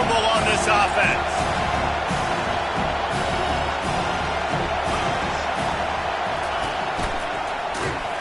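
Roaring stadium crowd at a football game on a fourth-down play, a thick sustained wall of noise with a low rumble and rising shouts, loud throughout, a commentator talking over it.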